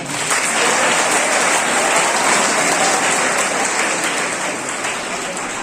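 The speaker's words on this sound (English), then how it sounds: "a big round of applause" Dense, loud audience applause during a vote of thanks at a formal event, a continuous wash of many hands clapping without a break.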